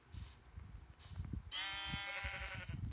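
Sheep bleating in a video game: a close, wavering bleat rings out clearly for over a second, preceded by faint shorter bleats, with soft low thumps and movement sounds underneath.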